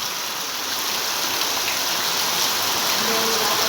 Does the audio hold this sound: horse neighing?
no